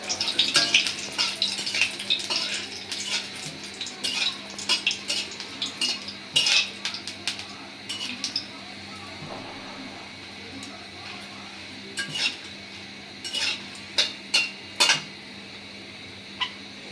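A metal spatula scrapes and clinks against a pan in irregular strokes as dried red chillies fry, over a soft, steady hiss.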